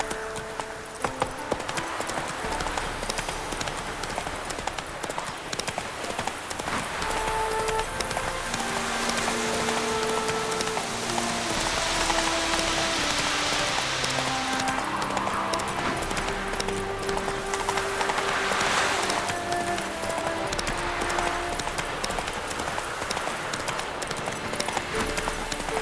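A horse galloping in the video game The Witcher 3, with rhythmic hoofbeats that stay steady for the whole stretch, moderately loud, mixed with wind and soft background music.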